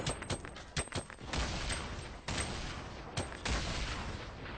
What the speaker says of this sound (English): That dude just got sniped.